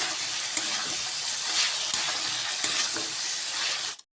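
Chicken being mixed with spices and salt in a hot pan gives a steady close sizzle, broken by a few sharp scrapes and clacks of the spoon, before it cuts off abruptly.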